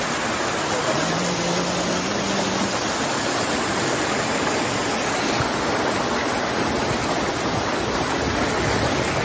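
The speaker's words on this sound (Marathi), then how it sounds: "धबधबा धबधबा" Anandwadi waterfall near Neral and Karjat in the Matheran hills, its water pouring in a steady, loud, close roar that never lets up, with a brief faint voice near the start.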